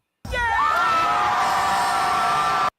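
A crowd at a political rally cheers and whoops loudly, a dense wash of high yells and screams holding steady for nearly three seconds before cutting off.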